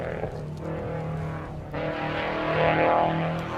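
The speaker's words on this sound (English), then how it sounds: "Probably the loudest car on the hill so far today." A Subaru Impreza rally car with a hotly built 2.5 engine, NA4 class, blasting past on the Oregon Trail Rally hill stage: a loud, sustained engine roar that swells as it nears, with no talk over it.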